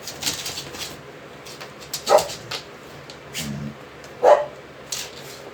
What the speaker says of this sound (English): I hear Sissy out there barking